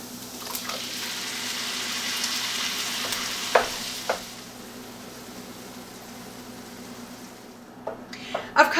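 San Marzano tomatoes, mostly halved, hit a hot pan of sizzling spices, a steady frying hiss with a few sharp pops and stirring clatters near the start and end, no talk.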